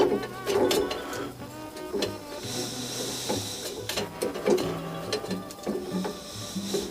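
Part being screwed back on during an engine long block build, giving a run of quick, rhythmic mechanical clicks and ratcheting whirrs, close and steady, with no talking.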